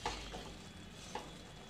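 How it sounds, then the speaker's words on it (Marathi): A spoon stirs and presses sprouted grains in a pot, giving a faint, soft scraping with two small clinks against the pot, set against low kitchen background noise. "हे काय थोडंसं हे काय करते, घोटते असं मोडाचं"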